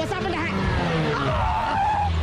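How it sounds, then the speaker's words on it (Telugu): A bus brakes hard to a stop with a loud, sustained tyre skid and squeal lasting about two seconds, with shouting voices mixed in. "బస్ ఆపండి."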